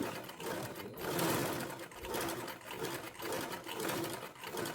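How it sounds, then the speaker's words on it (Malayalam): A sewing machine stitches around a blouse neck, a steady close whirring clatter that pulses slightly in speed across the whole stretch, with no talk. "ഇനി നമുക്ക് ഇതിന് തൊട്ടായിട്ട് കാലിഞ്ച് വിട്ടിട്ട് ഒന്നുകൂടെ സ്റ്റിച്ച് ചെയ്ത് കൊടുക്കാം"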